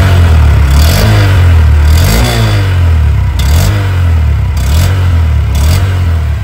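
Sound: 2023 Honda SP125 motorcycle exhaust sound

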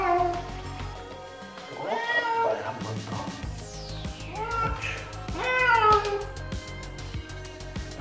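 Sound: cat meowing during a bath

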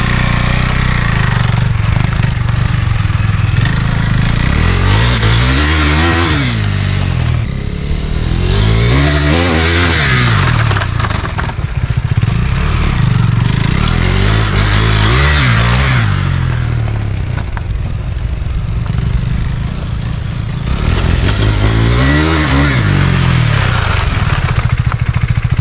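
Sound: Husqvarna Svartpilen 401 motorcycle riding on sand and dirt

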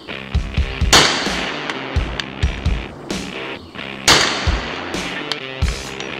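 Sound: gun being fired

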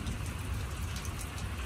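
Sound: rain falling on a patio in Dallas, Texas

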